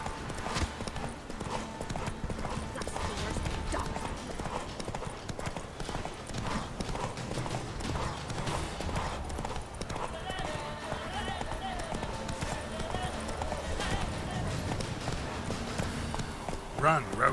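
Roach the horse galloping in The Witcher 3, hoofbeats pounding in a fast steady clip-clop across the whole stretch while a voice talks over it.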